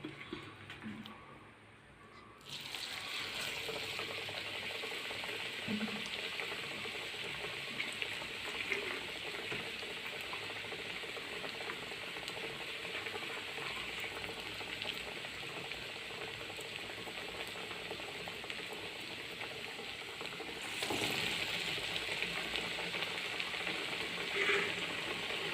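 Banana vada, plantain fritters, frying in hot oil, a continuous crackling sizzle that starts abruptly after a quiet moment and swells slightly louder near the end.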